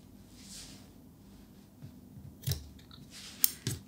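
Scissors snip off crochet yarn tails on a crocheted daisy, a few short, quiet cutting clicks spaced apart against a faint background.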